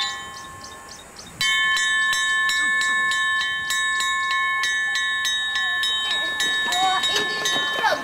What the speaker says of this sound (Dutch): Als de bel gaat, gaan alle 700 meisjes naar binnen.